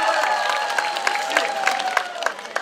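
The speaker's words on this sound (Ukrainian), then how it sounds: "Ірина, гучні оплески Ірині!" Loud audience clapping for a girl named Iryna at a Trinity (Green Holidays) festive gathering, steady dense claps with a sustained tonal voice or music line beneath, fairly close and continuous.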